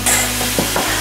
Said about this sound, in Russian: Сметана у нас уже почти закипела.